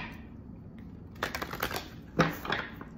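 A Moonology tarot deck is shuffled close by, a quiet rustle and then two bursts of rapid card riffling and flicking.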